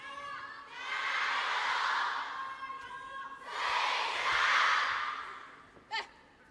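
Two swells of crowd cheering rise and fade in an arena during a women's singles table tennis match at WTT China Smash, with a short sharp sound near the end.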